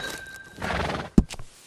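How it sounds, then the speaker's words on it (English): Thoroughbred horse in Red Dead Redemption 2 video game gives a clear close whinny, followed by a sharp hoof thump and a short snort near the end. "And here's the thoroughbred."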